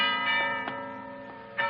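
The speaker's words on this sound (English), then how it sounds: "The monastery bell is ringing." A deserted waterfront monastery's church bell ringing in the evening, several resonant strikes with long ringing overtones, moderately near and heard alone.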